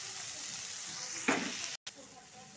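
Ginger and chopped tomato fry in a pan with a steady, close sizzle, broken by a louder burst of crackle midway and a brief dropout before the frying resumes.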